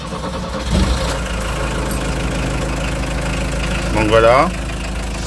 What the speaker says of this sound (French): il faut déjà mettre le contact et chauffer le moteur une quinzaine de minutes.